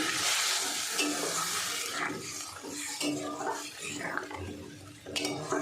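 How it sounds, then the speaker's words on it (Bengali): Hot water poured into a pan of cooking prawn and fig curry gives a broad hiss and splash that settles into a steady simmering sizzle, close and continuous, with light stirring sounds. "এবার আমি দিয়ে দেব গরম জল।"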